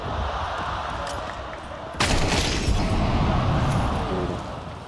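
FAMAS and AK rifle fire trading in a Counter-Strike 2 match, a sustained dense rattle of automatic shots with a loud burst partway through, under faint commentary and ambient game noise.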